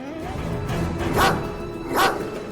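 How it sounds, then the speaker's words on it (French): A dog barks at a cat in an animated pet cartoon, two loud bark bursts spaced about a second apart over a steady background music bed. "Ce chien méchant t'aboie dessus!"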